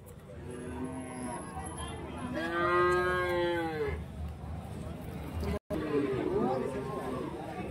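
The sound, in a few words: cattle mooing at a weekly livestock market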